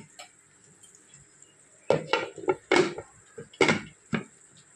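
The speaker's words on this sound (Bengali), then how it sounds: "এবার এই প্লেটটা ধরে আমি বসিয়ে দেবো এর মধ্যে। বসিয়ে দিয়ে আর লিডটা আমি ঢাকনা বন্ধ করে দেবো।" A plate is set inside a cooking pot with a little water and the lid is closed: a string of close, clattering metal-and-ceramic clanks and knocks, several loud hits in quick succession, over quiet room hiss.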